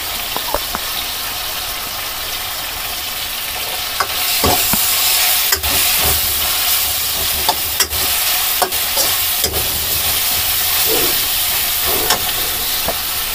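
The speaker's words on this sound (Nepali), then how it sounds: "यसलाई हामीले राम्रोसँग चाहिँ फ्राई गर्नुपर्छ।" Banana curry with cumin seeds frying in a pan sizzles with a steady broadband hiss, broken by scattered sharp pops and crackles and a few scrapes of stirring. No one speaks.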